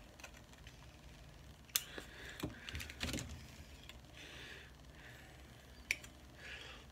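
Cutters snip plastic Dracula model kit parts off the sprue in faint, sharp clicks, scattered singly and in small clusters over a quiet background.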